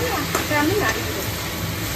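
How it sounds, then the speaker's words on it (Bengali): Fried chhana stirred in a pan with sugar and powdered milk, a steady close sizzle and hiss with scraping stir strokes throughout. "আমি নাড়িয়ে দেবো।"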